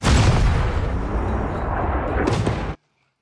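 Cannon fire in a ship battle scene from the TV series Shogun: a loud, sustained booming roar lasting nearly three seconds before cutting off abruptly to silence.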